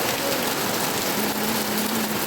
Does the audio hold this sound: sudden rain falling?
yes